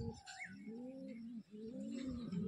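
Pigeon cooing in a close, steady series of low rolling coos while the bird is being handled, with faint higher chirps in the background.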